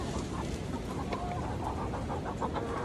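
Several chickens cluck in short, repeated bursts over a steady background hiss, fairly close and continuous.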